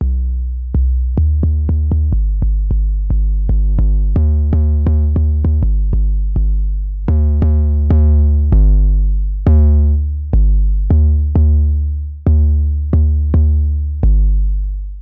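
A deep, buzzy synth bass plays a rhythmic pattern of repeated notes, loud and up front, with no voices.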